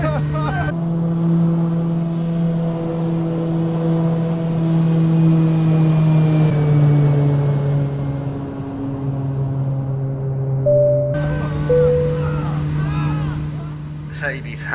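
A Kodiak 100 single-engine turboprop climbs away on takeoff in Microsoft Flight Simulator 2020 over Papua New Guinea, its steady droning engine tone loud and continuous, with a short switch partway through and a voice talking over it.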